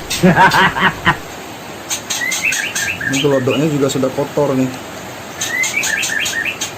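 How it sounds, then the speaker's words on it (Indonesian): A parent bird chirps repeatedly in quick, high bursts near its 12-day-old fledglings, with a person talking at a normal volume over the calls. "Jadi indukannya terus berbunyi seperti itu ya, terus berkicau seperti itu"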